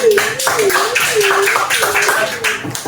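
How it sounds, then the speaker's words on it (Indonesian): A classroom group of students claps in a steady rhythmic pattern mixed with chanting voices, close and fairly loud throughout. "Jadi tepuk tangan dulu untuk kelompok ini."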